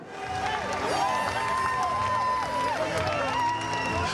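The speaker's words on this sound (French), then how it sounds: "Devant 700 personnes survoltées, il fend la foule tel une rockstar" An excited crowd of about 700 at a campaign rally in Toulon cheers, whistles and chants loudly and continuously, with cries rising and falling throughout and people shouting close by.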